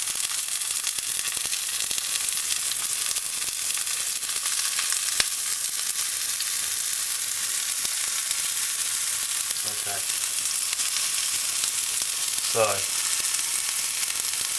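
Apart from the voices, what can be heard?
porcini mushrooms frying in olive oil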